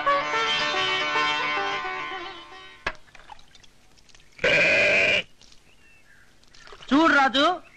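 A ram bleats in a Telugu film scene: two loud, wavering bleats come close by, one short and one rising and falling, after a stretch of talk and a quiet pause.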